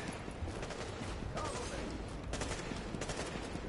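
Continuous gunfire in the video game The Division, a dense, rattling fusillade of repeated shots that stays fairly steady throughout, heard at a moderate distance and rather quiet overall.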